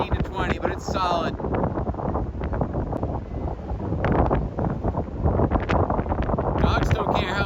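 Gusty wind buffets the microphone outdoors with steady broadband roar at 15 to 20 sustained, loud and continuous, while someone talks over it throughout.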